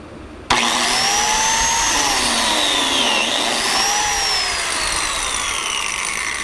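A DeWalt DW682 biscuit joiner starts up abruptly and keeps a loud, steady, high-pitched motor whine while it cuts rough-sawn red oak, with the pitch dipping and recovering under load.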